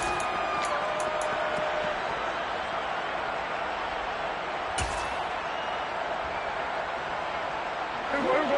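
Stadium crowd noise in an American football video game during a Cowboys match, a steady distant roar of many voices lasting throughout, under a commentator's voice, with a brief thump and a few whistle-like tones.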